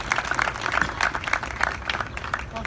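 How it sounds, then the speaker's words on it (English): A civic ceremony audience at a Long Beach motorsports walk of fame event applauds, a steady wash of many hands clapping at moderate distance, with faint crowd murmur beneath. "big round of applause"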